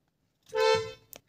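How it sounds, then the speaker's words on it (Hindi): The horn of a 2024 Hyundai Creta facelift, top SX(O) model, gives one short, loud, clear honk of about half a second, close by, followed by a faint click. "तो भाई वही क्रेटा का हॉर्न भाई कितना फेमस है"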